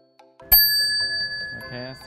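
A single bell is struck once during a novice monks' walking meditation, signalling a switch to standing meditation. It gives a bright ping that rings on and fades, with a faint voice-like sound near the end.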